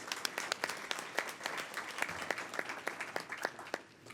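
An audience at a Columbus Metropolitan Club forum applauds the sponsors with steady, distinct claps, fairly faint and distant, with no talk over it.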